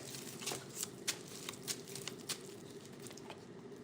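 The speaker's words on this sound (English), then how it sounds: "You guys are seeing me shuffle." Tarot cards are shuffled in quick riffling bursts, crisp papery flutters repeating several times against a quiet background.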